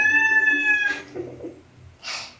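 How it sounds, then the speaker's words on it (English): A close, drawn-out cat meow, then a shorter second mew and a brief breathy sound, clear and nearby with no talking. "That's my cat telling me she wants to go out of the room."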